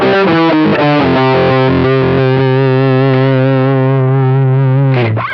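An electric guitar plays through a DigiTech Whammy pedal, the dry tone blended with an octave-down copy, giving a thick, distorted sound: a few quick picked notes, then a long sustained chord that ends in a brief pitch swoop.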